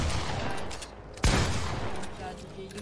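A single pump-action shotgun blast in an online shooter game, one sharp loud report standing out mid-clip over a steady background of game sound and faint scattered shots.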